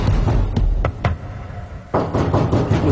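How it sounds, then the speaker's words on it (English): Sharp knocks and taps inside a haunted house, several separate raps at irregular intervals, then a denser cluster of knocking and rustling toward the end, fairly close and loud over a dark, rumbling background. "It was knocking sounds, tapping,"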